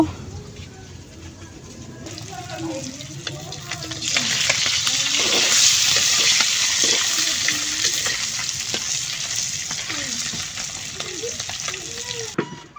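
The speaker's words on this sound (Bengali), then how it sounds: "এই যে আমি মাছগুলো যেইভাবে বাইজে নিচ্ছি, এখন আমি রান্না শুরু করব" Fish frying in a pan on a home stove: a steady, loud hiss of hot oil that swells after a few seconds and keeps sizzling, with faint voices murmuring in the background.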